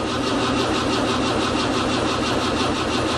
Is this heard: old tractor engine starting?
yes